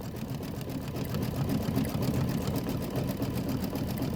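An embroidery machine stitches a grass fill pattern, a steady close whirring, rapid needle hum running continuously without pause and with no talking.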